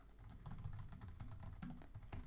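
Quiet, rapid typing on a computer keyboard as a name, email address and password are entered, a run of soft close keystrokes with brief pauses.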